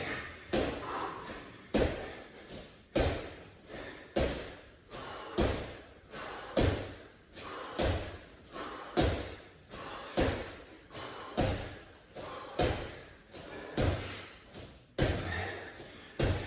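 Repeated jump squats during a home workout, each landing a heavy thud on the floor at a steady rhythm of roughly one per second, close and fairly loud, with heavy breathing between impacts.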